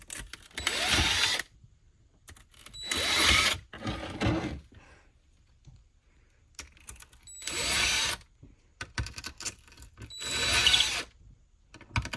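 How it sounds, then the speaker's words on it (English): A power drill with a drill bit reams out holes in a skateboard deck while replacing grip tape, whirring in four separate bursts, each a few seconds long, spinning up and winding down with quiet gaps between. "I like to take some sort of drill bit."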